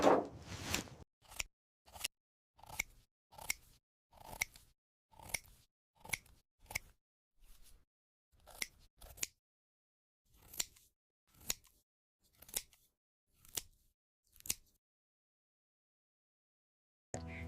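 Scissors snip through trays of watercress microgreens at harvest, a close series of about twenty crisp, separate cuts at an uneven, unhurried pace with silent gaps between them, and no voices.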